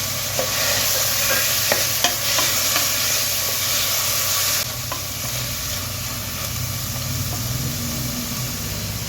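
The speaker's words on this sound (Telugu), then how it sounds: "ఇప్పుడు ఇందులో నానబెట్టుకున్న శనగపప్పు వేసుకుందాము." Soaked chana dal fries in a pan with a loud, continuous close sizzle and hiss, broken by occasional scraping as it is stirred. No one speaks.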